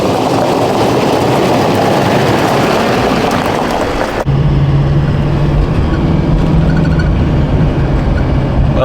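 A Duramax diesel pickup with a fuel problem runs on a test drive, giving a loud, continuous low engine drone with a steady hum that changes character partway through.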